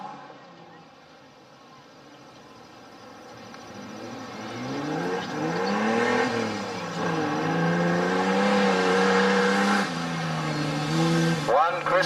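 Street stock race cars at Gunnedah Speedway in New South Wales roar and rise in pitch as they accelerate around the dirt track, with the engine drone swelling and shifting as cars pass. A commentator talks over the racing.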